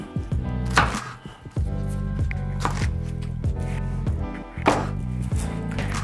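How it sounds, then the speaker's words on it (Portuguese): Knife chopping pineapple pieces on a cutting board, a quick run of firm rhythmic strikes, close and fairly loud, with no talking. "Eu vou usar dois pedaços assim de abacaxi, simplesmente cortar eles em pedaços menores."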